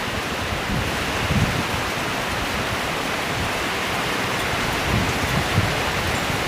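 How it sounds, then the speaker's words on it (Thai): Strong wind and rain lash the area around a house during a storm: a steady, dense roar of downpour with a few brief swells as gusts come through, and no voices. "บรรยากาศรอบบ้านผมครับลมแรงมาก"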